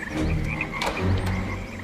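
Many frogs croak together in a dense, pulsing chorus, loud and near, with overlapping rhythmic calls and no voices.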